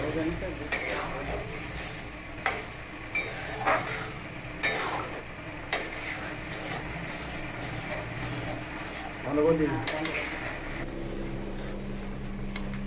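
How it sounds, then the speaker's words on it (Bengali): A spoon stirs raw green mango jelly cooking in a pan, giving intermittent scrapes and knocks against the metal over a low, steady bubbling sizzle, with a voice speaking briefly near the end. "এটা কন্টিনিউ নাড়তে হবে সময় লাগে"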